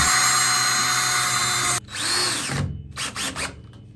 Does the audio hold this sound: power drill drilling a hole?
yes